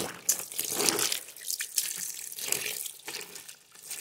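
Tap water runs into a sink or basin to soak a blackout curtain, a continuous splashing rush with shifting gurgles and drips, close and moderately loud throughout.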